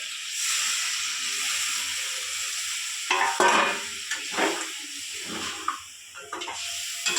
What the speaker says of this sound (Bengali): কষানো হয়ে গেছে, পরিমাণ মতন জল দিয়ে দেবো।